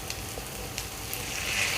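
Water poured into spiced tempeh frying in a pan for kering tempe, an Indonesian dish, giving a steady loud hiss and sizzle with small crackling pops throughout, close up and without talk.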